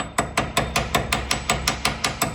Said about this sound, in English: So obviously I'm gonna grab a little chisel,